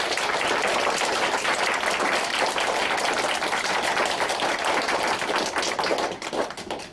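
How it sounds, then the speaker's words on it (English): Applause at a library dedication: a crowd claps in a dense, sustained burst of many close hands that thins and tapers off toward the end. "let's have one more round of applause for them"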